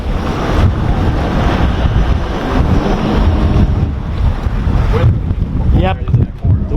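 Strong wind buffets a microphone beside a Cranchi yacht with Volvo IPS drives at Fort Pierce City Marina, a loud steady roar with gusty rumble throughout; faint voices are barely present.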